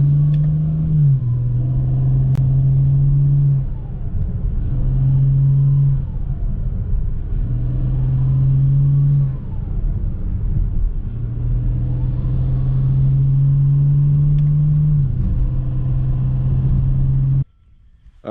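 A BMW E92 335i with downpipes and full bolt-on modifications rumbles close by at idle, with a deep steady drone broken by several brief blips of throttle before it cuts off abruptly near the end.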